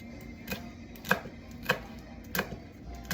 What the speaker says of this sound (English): And we're just gonna chop that up too.